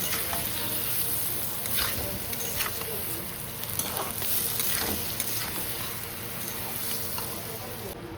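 Food sizzles and fries steadily in a pan while being stirred, with scraping strokes from the spoon recurring throughout at close range.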